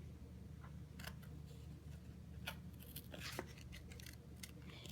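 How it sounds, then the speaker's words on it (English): Scissors snip through a paper card piece for a handmade Halloween card, a handful of faint separate crisp cuts spaced unevenly against quiet room noise. "it doesn't take much to cut this out"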